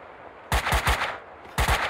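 Gunfire in the video game Max Payne 2: a short burst of rapid automatic shots, a brief pause, then another quick burst, loud and close, with no talk.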